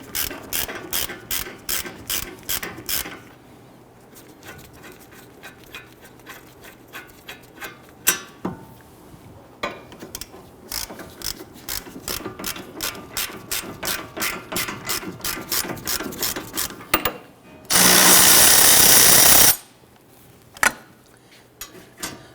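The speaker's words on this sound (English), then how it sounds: "I am going to go ahead and loosen and remove our lower bolt first" Ratchet clicking in rapid bursts while loosening and removing a lower steering knuckle bolt on a 2011-2023 Dodge Charger, close and loud, with a brief harsh burst of noise near the end.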